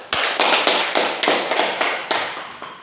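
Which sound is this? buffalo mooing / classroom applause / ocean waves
classroom applause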